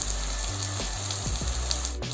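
Steady close sizzling and crackling of spices frying in hot oil, including ground fennel, with a few soft clinks of utensils against the pan.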